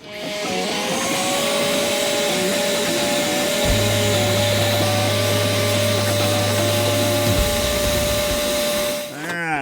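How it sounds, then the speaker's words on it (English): A vacuum cleaner runs loudly and steadily with a constant motor whine while cleaning out a kamado grill, its pitch shifting briefly midway before cutting off near the end. "vacuum cleaning."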